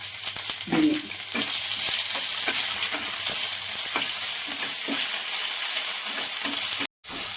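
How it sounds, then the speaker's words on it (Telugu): Ajwain leaves fry in hot oil in a pan, giving a loud, steady sizzle with occasional soft stirring scrapes and no talk. "ఇప్పుడు మనం బాగా వేడనిద్దాం"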